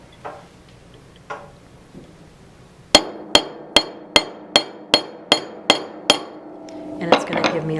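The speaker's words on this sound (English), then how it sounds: "I'm going to go ahead and use the Goldsmith hammer." A goldsmith hammer strikes metal being formed: after a few faint taps, a run of about nine sharp, evenly spaced ringing blows lands close and clear, followed by some rattling handling.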